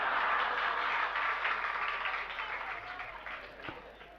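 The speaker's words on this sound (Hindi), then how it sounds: "जो आज ताली बजा रहे हैं" Children clapping during a Jain sermon at a temple gathering, a dense wash of applause that starts full and gradually thins and fades over a few seconds.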